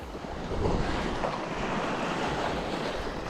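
Ocean waves wash onto a Scottish west-coast shore at low tide with a broad, steady roar of surf. Wind noise rumbles across the microphone, close and fairly loud, and no voices are heard.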